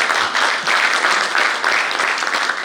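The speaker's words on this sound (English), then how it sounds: "can we have a big round of applause to start the evening?" A big round of applause from an audience opening an evening celebration of OPPI's diamond jubilee, loud and close, with dense clapping that pulses slightly in waves across the whole stretch.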